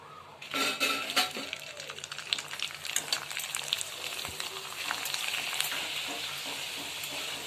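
Ragi (finger millet) papads frying in hot oil, with a continuous crackling sizzle plus occasional clinks and scrapes of utensils against the pan, close and moderately quiet.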